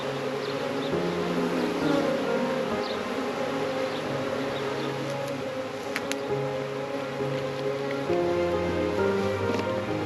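A honeybee swarm being settled into a box on a farm hums with a dense, continuous buzzing drone, many bees overlapping close by and steady for the whole stretch, with no voices.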